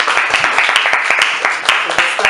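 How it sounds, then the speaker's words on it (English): A classroom audience breaks into applause during an English 10 demonstration lesson, with many hands clapping densely and steadily at close range for a couple of seconds, without speech over it. "a round of applause for everyone"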